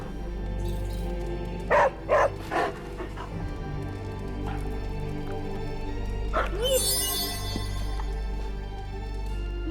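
Charlie the dog in Marvel Midnight Suns gives a few short barks and yips near the start, then a brief whimper later, set against a steady low game ambience.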